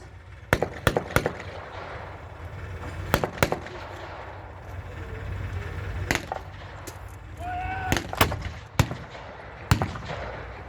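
Blank-fire gunfire at a WW2 battle re-enactment, German troops engaging Americans held inside a building: sharp single and paired shots crack out irregularly, some loud and near, others farther off, over a steady outdoor rumble.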